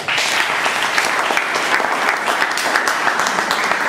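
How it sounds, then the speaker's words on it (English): A crowd claps steadily and enthusiastically, a dense, sustained round of applause throughout. "what do we give this amazing speaker? A huge round of applause"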